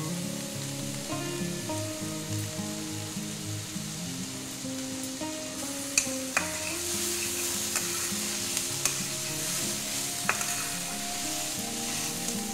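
Snake gourd with poppy seeds and onion frying in a pan, a constant soft sizzle with repeated scraping and stirring of a spatula against the pan, occasional sharp clinks, no talk.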